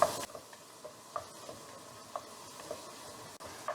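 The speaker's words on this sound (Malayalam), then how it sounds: "അപ്പോൾ ഇനി സവാള നന്നായിട്ടൊന്ന് വാടി വരട്ടെ കേട്ടോ" Sliced onions sauté in a pan for upma, giving a faint, steady sizzle broken by soft stirring clicks and scrapes every half second or so, close by with no talking.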